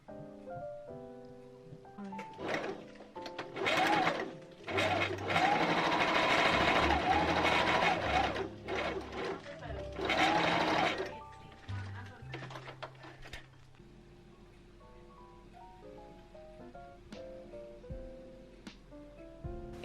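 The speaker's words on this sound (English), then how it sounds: "here we have the cut pieces that we're sewing together" A sewing machine stitches cut bedsheet pieces together for a bustier dress, running in several loud bursts of steady whirring with pauses between, while music plays softly in the background.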